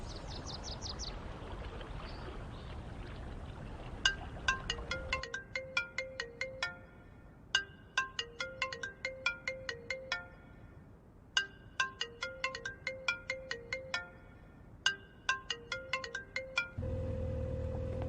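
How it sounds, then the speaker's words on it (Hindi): A phone ringtone plays a repeating chiming melody in several bursts separated by short pauses and keeps ringing unanswered. It is moderately loud over a low background hum, and no one speaks. "बॉस मेरा फोन नहीं उठा रहा है"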